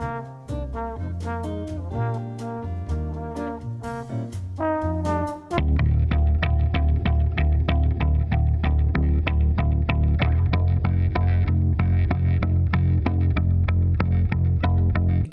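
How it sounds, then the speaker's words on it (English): Doubled bass line in an Ableton shoegaze track, both parts playing the same notes in the same octave, with a sparse opening that gives way around the five-second mark to a loud, thick, steady heavy mix that carries through to the end. "It is doubled, but it is the same notes being played at the same octave"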